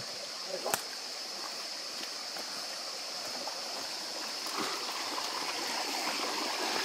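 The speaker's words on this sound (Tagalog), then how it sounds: "Parang ilog-ilog lang din." A stream flows steadily with a continuous soft rushing of water, a few faint clicks and knocks standing out over the constant wash.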